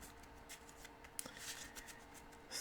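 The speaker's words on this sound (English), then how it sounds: "Sorry, I just love shuffling decks." A deck of Magic: The Gathering cards is shuffled by hand in quick, soft riffling bursts and ticks, close and quiet, with a brighter flutter near the end and no talk.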